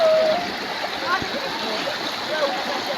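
Water in the Sosian river rushes and splashes with a steady broadband roar, close and continuous over a few seconds.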